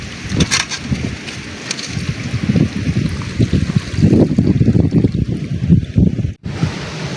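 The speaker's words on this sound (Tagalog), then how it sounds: "Kumulo na." Water for fish tinola comes to a rolling boil in a cooking pot, a steady, close, bubbling rumble with splashy churning and brief gusts of hiss running throughout, no talking over it.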